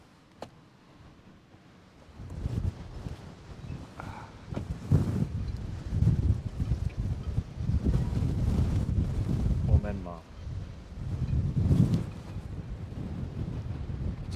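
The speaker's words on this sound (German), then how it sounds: "Oh ja, ist ein bisschen windig." Gusty outdoor wind buffets the microphone, quiet at first, then rushing loudly in uneven surges from about two seconds on, while a person talks.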